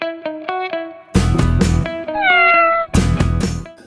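A cat meows several times in short tonal calls, close and clear, with louder rumbling bursts of background noise between some of the calls.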